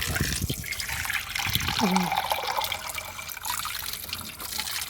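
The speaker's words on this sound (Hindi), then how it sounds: "यहाँ से पानी ले लूँगा मैं टूटी से।" Steady broadband rush of water pouring from a tap, continuous throughout, with a brief voice or clatter near the middle.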